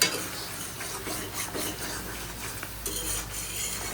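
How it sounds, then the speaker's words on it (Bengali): A metal spoon scrapes and clatters against a pan as bori lentil dumplings fry with pointed gourd in spiced oil, with repeated close stirring strokes over a faint sizzle. "আর এখানে আমি বড়ি রান্না করছি, বড়িটা কষাচ্ছি।"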